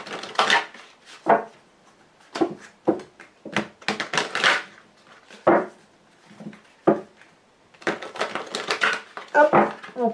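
A Lenormand deck of playing cards being shuffled and cut by hand: crisp, rapid riffling bursts separated by short pauses, close and clear, with no voices.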